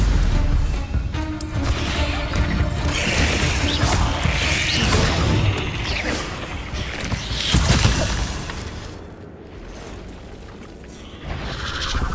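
Spells fired in combat with spiders in the Forbidden Forest in Hogwarts Legacy, including Stupefy, give loud, continuous crashing whooshes and blasts that fade briefly before another burst.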